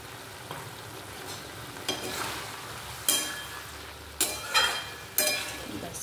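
Pointed gourd with sesame stir-fried in oil: a steady low sizzle with several louder scraping stirs of the spatula against the pan, close and without voices.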